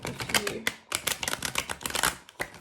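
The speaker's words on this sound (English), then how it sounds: "I'm just going to shuffle these cards a little bit" Tarot cards are shuffled by hand in quick bursts of crisp riffling and slapping, loud and close, with a short pause before the shuffling resumes.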